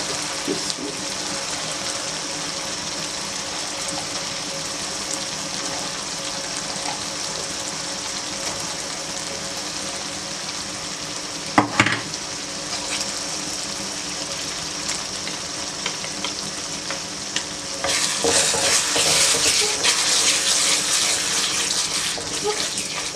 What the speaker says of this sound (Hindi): मसाला हमारा फ्राई हो गया।